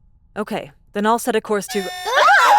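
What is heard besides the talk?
spaceship alarm sound effect in an audiobook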